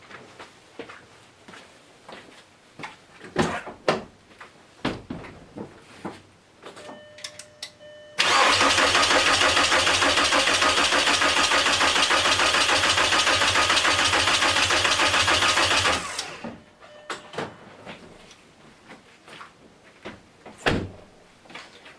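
A VW TDI ALH diesel engine cranks for about eight seconds without firing, a loud, steady whirring starter churn that starts and stops abruptly, with quiet clicks and shop sounds before and after.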